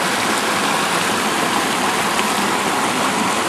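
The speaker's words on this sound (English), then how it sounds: "this is the Lyle Fork of the Tuolumne River" The Lyell Fork of the Tuolumne River in the High Sierra near Tuolumne Meadows, a loud, steady, close rush of flowing water with no pauses.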